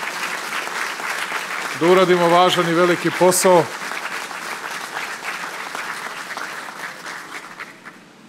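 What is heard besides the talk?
audience applause at factory opening in Pančevo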